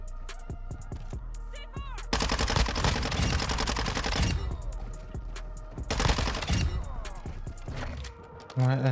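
Automatic fire from the Minibak submachine gun in Modern Warfare II rattles in long dense bursts, loud and close, with brief pauses and game sound effects between them, while a player talks at times.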